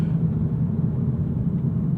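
Modified, front-wheel-drive 2024 Volkswagen GTI 380 S with added power and torque, its engine producing a steady, throaty low rumble that stays loud and continuous throughout.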